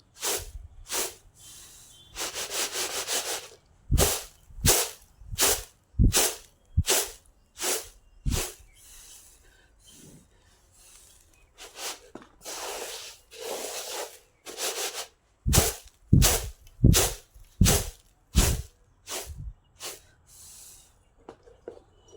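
Moong dal being winnowed in a traditional winnowing basket, with rhythmic loud swishing and thumping strokes repeating in quick bursts, pausing briefly mid-way before resuming.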